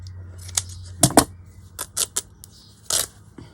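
Scissors snip through leftover fabric scraps in a handful of close, crisp cuts, some in quick pairs, with quiet pauses between them and no one speaking.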